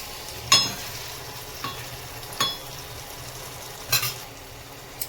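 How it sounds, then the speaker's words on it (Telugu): An egg fries in a pan, giving a soft continuous sizzle broken by a few sharp clinks and scrapes of a utensil stirring against the metal. "ఇందులో మనం ఒక గుడ్డ అనేది పగలగొట్టేసి ఇలాగ వేయాలండి. ఆ గుడ్డుని మాత్రం కలిపితే కలపండి"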